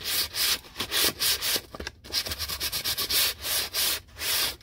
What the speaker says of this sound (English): So what I'm going to do is I'm going to take this 400 grit sandpaper